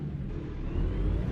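A Peterbilt 350 truck engine in American Truck Simulator at full throttle, a low dense rumble building slightly louder over a short stretch, with no other sounds.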